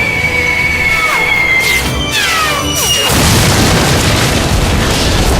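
Bombs striking ground targets at a fortress in a flight combat video game: after dispatch chatter and whistling tones, a loud heavy blast erupts around the three-second mark and rumbles on densely to the end.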